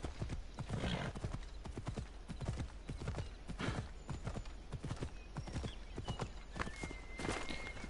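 Hoofbeats of a winged horse in the game Assassin's Creed Odyssey, a fast, steady clip-clop of galloping hooves with a whinny partway through, loud and continuous with no speech.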